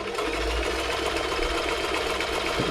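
A Toyota Model 2640 domestic sewing machine stitches, its motor whirring in a steady, loud mechanical drone with a rapid needle rhythm, running continuously and close up before slowing slightly at the end.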